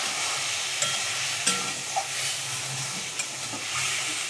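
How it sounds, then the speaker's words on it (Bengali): Spice masala sizzling in a pan as water is added and stirred, a steady frying hiss with occasional clicks and scrapes of the spoon against the pan. "খুব ভালো করে ভেজে নিয়েছি, মশলাটা লেগে যাচ্ছে, তাই একটু জল দিচ্ছি।"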